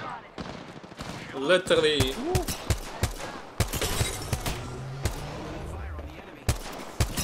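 Bursts of enemy gunfire in the Apex Legends battle royale, sharp scattered shots and short volleys under a player's talking and exclamations.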